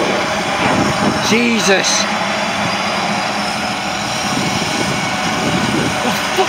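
A loud, steady air ambulance helicopter engine roar fills the scene nearby, with excited voices talking over it.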